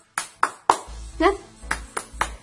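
Young children in an elementary classroom doing a rhythmic clap chant: sharp, evenly spaced claps in a steady pattern, with a teacher's voice and a shouted word in the middle, fairly faint overall.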